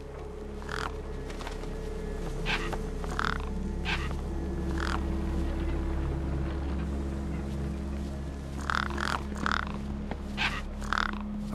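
Crows caw in scattered bursts over a corpse propped against a rock in the video game Beyond a Steel Sky, a few harsh calls early and a cluster near the end above a steady low ambient hum.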